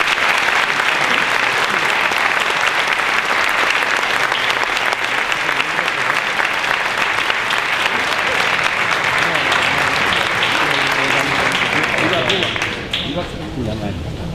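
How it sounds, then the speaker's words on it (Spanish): Loud, steady audience applause welcomes a speaker at a tribute event for Salvador Puig Antich. It fills the hall for over ten seconds, then thins toward the end. "Recibámoslo con un aplauso."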